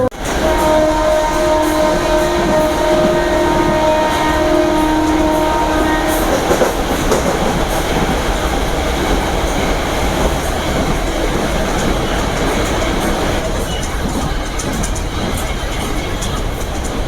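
A MEMU electric passenger train on the Dindigul–Coimbatore line accelerates with a rising electric motor whine, then a loud, continuous rumble with rhythmic wheel clatter as it gathers speed, heard from inside the carriage.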